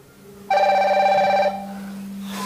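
A Fireboltt Infinity smartwatch rings for an incoming call with vibration switched off, giving one clear, loud electronic ring burst of about a second over a low constant hum.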